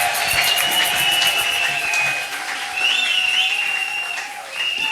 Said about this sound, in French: Est-ce qu'on peut acclamer pour le marié?